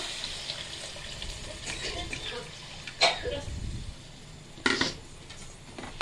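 Tamarind pulp mixed with water is poured into a cooking pan while making a fried fish curry. Soft watery splashing and a few sharp clinks of utensils against the pan stand out over a low, steady kitchen background.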